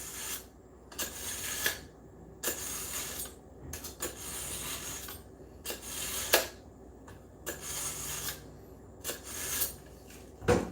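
A blade is sharpened with repeated abrasive scraping strokes, about nine rhythmic passes that are close and moderately loud, with short pauses between them.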